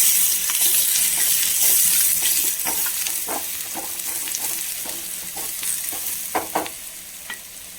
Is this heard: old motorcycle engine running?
no